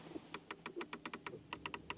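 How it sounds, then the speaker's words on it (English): Crisp, close plastic clicks from the manual climate control buttons on the center console of a 2025 Porsche 911 GTS hybrid. About fourteen quick presses come in a fairly even rhythm over two seconds. "nice clicking sounds here for the climate unit, manual to control"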